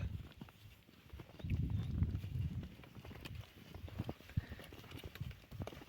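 Faint, irregular hoof clops of a draft mare walking on soft ground, quiet and somewhat distant, with low rustling in the background.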